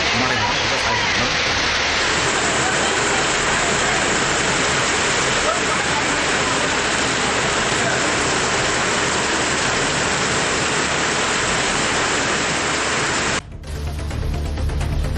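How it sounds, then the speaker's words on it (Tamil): Heavy rain pours down in a steady, dense hiss that stays loud and unbroken for most of the stretch before cutting off abruptly near the end. "1 மணி நேரத்திற்கு மேலாக அடைமழை பெய்ததால் குளிர்ச்சியான சூழல் நிலவியது"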